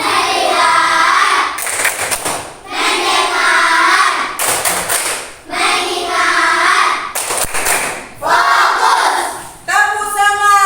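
Classroom ice-breaker 'focus clap' with a group of children clapping in rhythmic bursts, loud and close, alternating with short pauses and shouts, a teacher leading in Indonesian.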